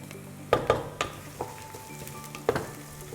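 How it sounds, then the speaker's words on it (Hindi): Garlic sautéing in a pan for an Italian minestrone-style tomato vegetable soup, heard as a quiet sizzle broken by several sharp scraping stirs and light clinks, close by with no talk. "हल्का सा इसको सौते करना है और साथ ही इसमें हम डालेंगे गार्लिक"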